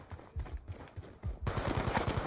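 Gunfire from Call of Duty Black Ops II in a match against bots: scattered single shots at first, then a dense, continuous burst of rapid automatic fire, moderately loud and close.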